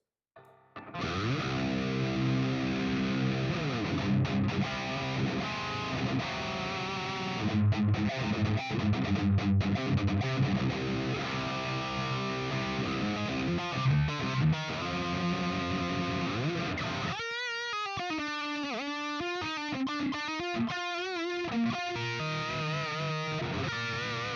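A heavily distorted electric guitar through a capture of a Bogner Uber Ultra EL34 amp plays chunky riffs and sustained chords, then shifts into bright lead notes, loud and saturated throughout.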